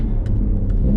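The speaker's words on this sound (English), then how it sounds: "you gonna show me how this launch control thing works?" An Audi RS4 with a new exhaust holds a deep, steady rumbling rev, loud and close, as launch control is tried, with a couple of brief higher bursts riding over the drone.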